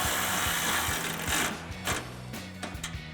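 A ratchet wrench with a 13mm socket tightens an exhaust hanger bolt on a Jeep Gladiator JT, a fast rhythmic clicking of repeated short strokes, close and fairly quiet, with no speech.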